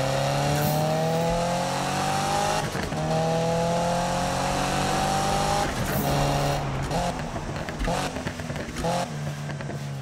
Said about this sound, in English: Now I'll let you guys hear the car because it sounds absolutely amazing.